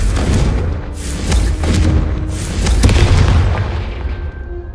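A Confringo fire spell in Hogwarts Legacy bursts into loud, booming explosions, a rolling series of heavy blasts and crackles that rumble close and fill the moment before fading out.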